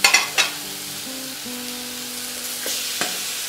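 Chicken pieces drop with a few quick clunks onto sliced ginger in a hot pot cooked without oil, then a soft, steady sizzle with a faint hum continues, with one more light knock near the end.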